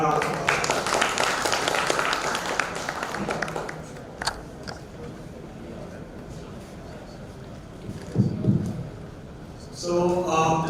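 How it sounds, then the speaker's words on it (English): Audience applause fills a conference hall at the ETHforAll kickoff event, a dense, loud wash of clapping for the first few seconds that thins out. Quieter room noise and brief talk follow. "Can we have an round of applause?"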